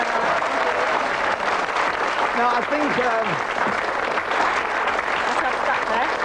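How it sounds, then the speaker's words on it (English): Studio audience applauds a game show contestant on a 1987 British word game, steady dense clapping throughout while a host talks over it. "Give Kathy a round of applause."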